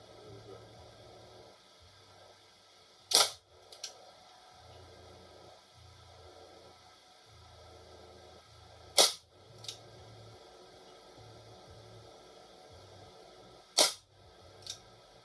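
An Isaazon .177 multi-shot pellet pistol fires three sharp, isolated shots several seconds apart, each crack followed by a faint impact or click, over a quiet low hum.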